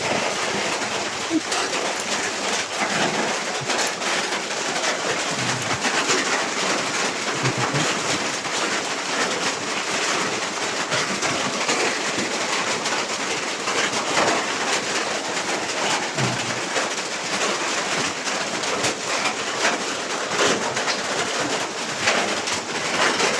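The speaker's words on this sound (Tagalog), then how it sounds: "So, umuulan talaga guys, no?" Steady rain falling on an abandoned ghost town in Davao de Oro, Mindanao, a continuous dense hiss with a few faint bird coos mixed in, even and close all the way through.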